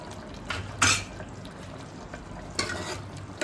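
A spoon stirs two spoons each of jaggery and tamarind pulp into a Gujarati-style soupy potato curry in a pan. Soft wet scraping is broken by a few sharp metallic clinks against the pot.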